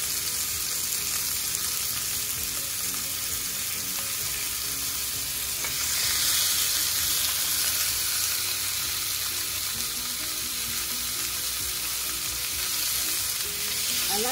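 A T-bone steak frying in a pan gives a steady, close sizzle that runs unbroken throughout, swelling slightly louder midway, with no voices over it.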